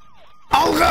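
Video game police and ambulance sirens cut in abruptly at full volume after a faint wailing tone, a loud close blaring siren sustained to the end.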